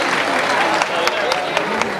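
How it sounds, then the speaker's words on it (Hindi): A crowd at a political speaking event in Delhi welcomes a cabinet minister with steady, dense applause, a continuous wash of clapping, while a voice keeps speaking over it through a public address system. "एक बार जोरदार तालियों से प्रवेश जी का भी"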